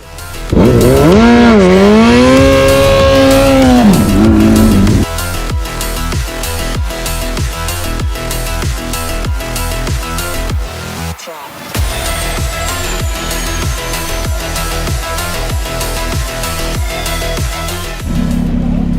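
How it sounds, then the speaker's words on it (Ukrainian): A custom motorcycle built on a Yamaha XJR1200 runs its engine close by, first revving with a rising and falling pitch, then settling into a loud, rapid, throbbing idle with a short dip and a few blips. "Дімон завів свою ракету і нічого взагалі не чутно."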